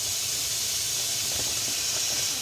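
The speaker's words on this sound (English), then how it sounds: "a good way to test if your pan is hot enough is just flick some water, and then you see it sizzle" Water flicked into a pan of hot oil sizzles steadily, a close, continuous hiss that holds at an even level and then tapers slightly at the end, with no voices.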